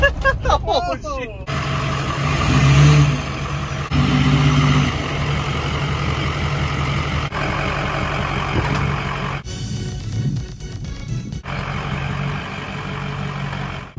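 A truck driven with its shocks removed, its engine rumbling and revving on the move amid rattles and clunks from the chassis, while people talk throughout in the cab.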